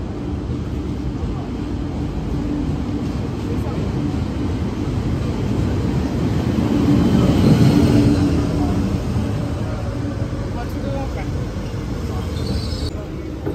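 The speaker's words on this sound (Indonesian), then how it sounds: "Ini lagi nunggu keretanya datang guys, 5 menit. Ini keretanya udah datang guys." Train pulling into a station in Monaco: a broad, steady rumble that swells to a peak midway as it arrives, then eases while continuing to roll.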